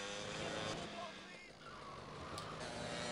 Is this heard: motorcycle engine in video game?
yes